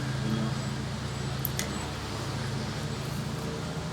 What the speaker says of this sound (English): Sorry about the noise. Everybody's cutting their grass and stuff after the hurricane.